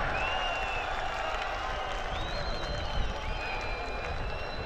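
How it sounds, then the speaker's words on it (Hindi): At a political rally in Delhi, a large crowd greets Gautam Gambhir with dense, steady applause and cheering, with a few whistle-like calls rising above the continuous roar throughout. "पूरी तालियों की गड़गड़ाहट से।"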